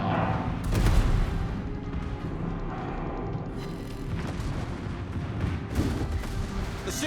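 Secondary guns on a warship fire in the World of Warships video game, several booming shots ringing out irregularly over a dense rumbling battle background.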